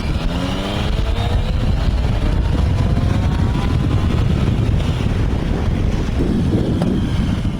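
Loud, steady engine roar with rising whine and heavy wind buffeting from a Yamaha Tracer 900 motorcycle exhaust, heard up close while riding.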